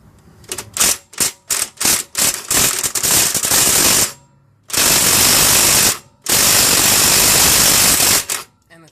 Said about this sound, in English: So the rattle gun didn't get it.